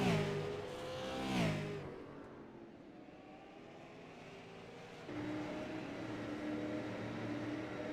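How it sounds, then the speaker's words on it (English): Race car engines roar in an ISDC Grand National Series racing video game at Virginia. One engine revs up and fades early, then a steady engine drone carries on and swells again partway through, with no voices. "Them cars are loud."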